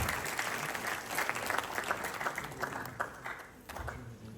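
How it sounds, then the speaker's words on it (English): A crowd applauds a quiz team at an international school quiz, steady dense clapping throughout that dips briefly before picking up again. "Let's hear a round of applause for them."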